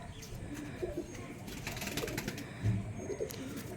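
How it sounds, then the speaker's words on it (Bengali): A male chotial pigeon coos in a few soft, low bursts against a busy background of other birds and ambient noise. "ওভারঅল পায়রাটা দেখতে পাচ্ছ তোমরা, নর পায়রা চটিয়াল।"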